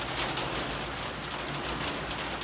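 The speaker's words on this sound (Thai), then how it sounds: "อืมฝนตกแล้วเนาะ" Steady, dense hiss of rain falling, soft and even throughout, with no voices.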